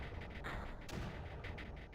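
Mortar fire in the strategy game Creeper World, a quick series of soft, muffled thumps and pops set against a steady low rumble, with no voices.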